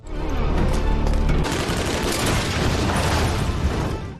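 Film ambush scene with rapid gunfire from the trees and a grenade explosion, heavy continuous crackle and booms filling the whole stretch, loud and dense with a thick low-end rumble.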